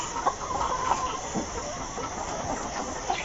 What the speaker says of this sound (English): this is how the layer birds behave before they get to sleep